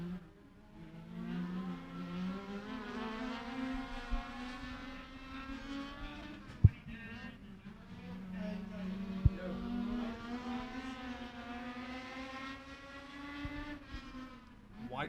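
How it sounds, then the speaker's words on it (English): Race cars circle Beckley Motor Speedway during qualifying, their engines droning and rising and falling in pitch as they pass, with a couple of sharp knocks and an announcer's voice over the track. "The 18 machine of Quade Schoonover on the loud pedal there in that 18 machine."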